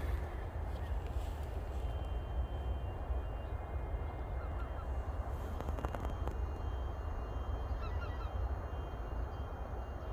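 Geese honking outdoors among grass, scattered calls over a constant low rumble of wind or distant traffic, with faint aircraft-like drone in the background.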